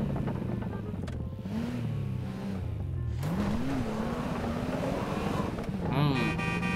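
Car engine in GTA V Online during a snowy parkour race, a steady revving drone with pitch rising and falling as the car accelerates, loud and continuous under game sounds.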